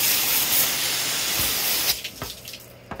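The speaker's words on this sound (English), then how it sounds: "once you get him scaled good, rinse both sides off good" Steady hissing water spray rinses the scales off a scaled flounder, loud and continuous for a couple of seconds, then cuts off, leaving faint splashes and drips.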